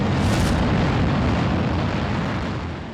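A V2 missile detonation on a recreated Blitz-era street bursts in a loud, deep, rumbling blast that stays dense and powerful before slowly tapering off at the end.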